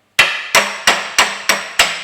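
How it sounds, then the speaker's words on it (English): Six sharp metallic hammer blows ring out at a steady pace driving a poly bush into a Ford Mondeo ST220 rear subframe, each loud clang decaying quickly before the next strike. "I reckon with a few clouts of a hammer,"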